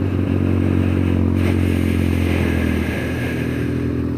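Motorcycles ride close behind on a muddy trail during the Wales 500 adventure ride, a steady loud engine drone with low rumble and clattering scrapes throughout, no talking.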